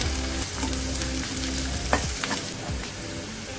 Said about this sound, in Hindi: अब इसमें सूखी लाल मिर्च डालेंगे, थोड़ी देर के लिए फ्राई करेंगे।